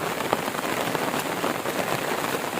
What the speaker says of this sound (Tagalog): Ulan ra siya.